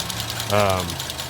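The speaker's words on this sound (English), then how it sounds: "it's just a little noisy occasionally, that GDI, gasoline direct injection pump." A 2020 Ford EcoSport engine idles with the light ticking of its gasoline direct injection fuel pump, a steady mechanical hum with a brief louder swell partway through.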